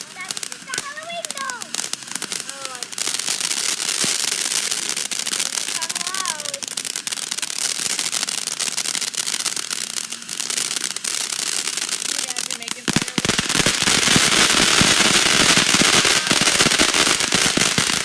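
Halloween ghost consumer firework going off outdoors, a dense run of rapid crackling pops that continues loud and close for many seconds, with people talking and whistling effects early on.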